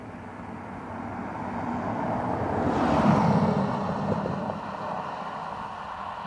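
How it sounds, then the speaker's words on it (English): A JetBlue Airbus A321neo jet airliner at Dublin Airport passes at a distance, a soft roar swelling to a peak midway and then slowly fading under wind noise. "This is a JetBlue 321 Neo from JFK."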